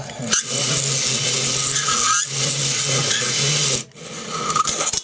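Honing tool spinning inside a scored engine cylinder with fine valve lapping paste, a loud steady grinding whir that runs in long stretches, briefly pausing, then stopping and restarting.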